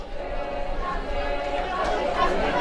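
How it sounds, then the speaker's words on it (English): School learners chant and cheer as a crowd at a high school rugby match, a steady, blended roar of many voices heard from a distance, with a commentator talking over it. "Hearing some chants from the DF learners"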